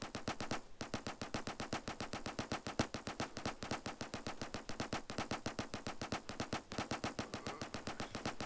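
Sustained rapid machine gun fire from an Armored Patrol video game, a dense unbroken rattle of shots running loud and close for the whole stretch with only a couple of brief gaps.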